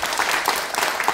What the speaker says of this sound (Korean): 자, 박수 한번 주시고.